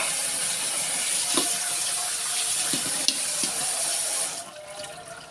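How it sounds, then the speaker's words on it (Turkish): Cold tap water pours over drained dough for a yalancı mantı dish in a kitchen sink, a steady close hissing stream that cuts off and fades just before the end, with no talking. "Soğuk sudan da geçirelim."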